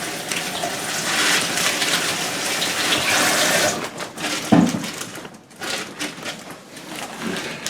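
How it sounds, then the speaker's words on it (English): Running tap water splashes and gushes steadily onto bagged potatoes in a sink, briefly dipping then resuming, close and fairly loud. "Just leave them in the bag, run some water over them."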